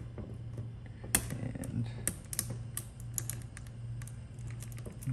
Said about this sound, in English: Gently cut and make sure you don't go all the way through